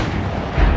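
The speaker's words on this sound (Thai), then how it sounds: "จึงได้ยิงปืนลูกซองสวนเปรี้ยงออกไปทันที" A single deep shotgun blast fired at close range during a Thai ghost story, arriving as a loud low-frequency boom over a rumbling background that runs to the end.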